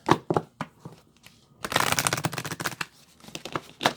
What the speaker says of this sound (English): while I continue to shuffle too